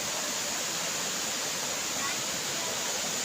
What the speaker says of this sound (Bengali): দেখুন কীভাবে জলগুলো বেরিয়ে যাচ্ছে।